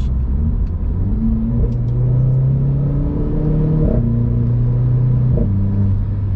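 A small car in sport mode pulls hard through its dual-clutch gearbox, engine note climbing steadily with quick, crisp upshifts, loud and close from inside the cabin with no talking.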